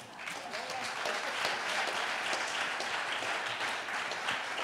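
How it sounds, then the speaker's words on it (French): An audience at a public pitch event of a regional tourism gathering breaks into applause, a dense continuous clapping that holds steady for several seconds at moderate distance. "Voilà, une bonne main d'applaudissement."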